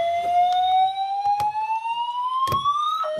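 School building alarm sounding inside an office area, a loud electronic tone sweeping slowly upward and then resetting, punctuated by sharp clattering knocks and bumps nearby.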